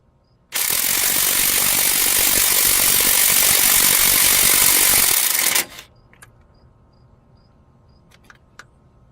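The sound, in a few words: impact gun removing flywheel bolts, T55 bit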